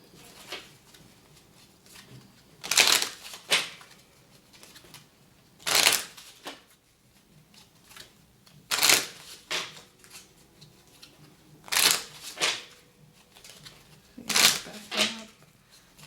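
Tarot cards are shuffled and drawn in short, crisp riffling bursts every few seconds, close and fairly clear, with soft handling rustles in between and no talk.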